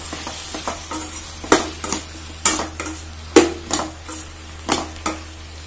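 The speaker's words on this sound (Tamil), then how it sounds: "இப்போ இதை நல்லா வதக்கி விட்டுக்கலாம்." Brinjal pieces are sautéed with chilli powder, salt and turmeric for podi curry. A spoon scrapes and knocks against the pan in irregular close strokes over a soft background sizzle.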